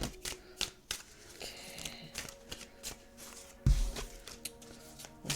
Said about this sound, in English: let me shuffle them up.